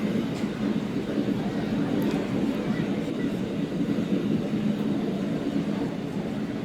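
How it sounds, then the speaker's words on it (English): Model steam train rounding a corner on a layout at a scale train show, a steady rumbling clatter under a busy hall hum, moderately loud and continuous. "A steam train rounding the corner."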